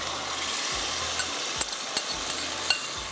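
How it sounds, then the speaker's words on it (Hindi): Lentils and chopped bottle gourd cook in a pan with green chillies and crushed cumin for a tarka, giving a steady soft sizzle broken by a few light utensil clicks and stirring taps, close and alone with no talking. "अब इसके अंदर ये दाल डालकर थोड़ी देर इसको पकाएंगे"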